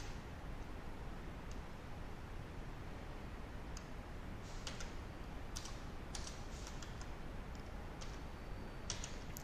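Keys clack on a computer keyboard as a word and then a normal sentence are typed into a spreadsheet formula exercise. The keystrokes come in faint, scattered bursts over a steady hiss, with no voices.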